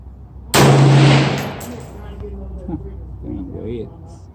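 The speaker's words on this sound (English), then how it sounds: "I'll be shooting at 100 yards with 223." A single loud AR-15 rifle shot firing .223 at a 100-yard target, a sharp crack with a long fading ring, followed by quieter background sounds and faint voices.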